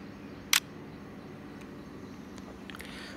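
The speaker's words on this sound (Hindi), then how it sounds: "अब मैंने फ़ोटोग्राफ क्लिक कर ली।" A phone camera shutter gives a single short, sharp click while a photograph is taken, with faint quiet room noise before and after.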